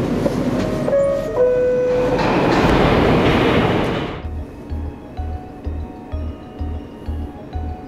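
A New York subway car in motion: a loud rolling rumble with squealing tones that drops after about four seconds into a steady, rhythmic clatter of wheels over rail joints.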